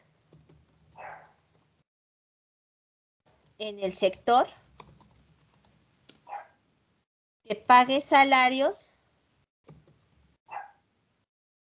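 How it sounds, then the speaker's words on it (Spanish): A dog barks in the background of a Spanish-language economics lecture, in two short bursts of several barks each, while the lecturer keeps talking between them. "perdón por los ladridos del perro"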